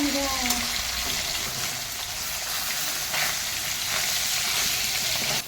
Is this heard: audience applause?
no